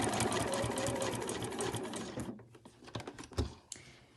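A sewing machine stitches into a 45-degree corner of an overlocker cover, a fast steady buzzing run for about two seconds that stops, followed by a few faint clicks and handling sounds nearby.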